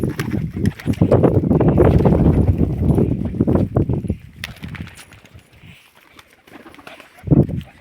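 A very large pigeon coos and shuffles close by, with soft flapping and scratching sounds, loud at first and then quieter, ending in a brief burst near the end.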